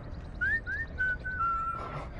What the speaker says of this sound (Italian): È lui che fischiava